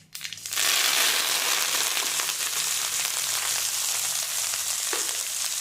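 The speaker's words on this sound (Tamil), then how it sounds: "இனி இந்த கீரை நறுக்குனதை அதில் கொட்டணும்." Chopped spinach dropped into a hot pan of popped mustard seeds, giving a loud burst of sizzling and frying that settles into a steady, close crackle.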